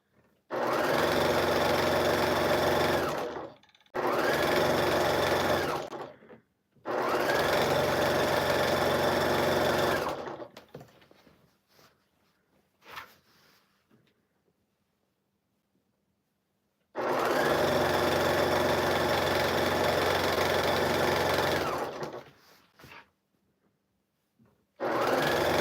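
Sewing machine running a zigzag stitch in several loud, steady bursts separated by short pauses and one long quiet gap with faint handling noises.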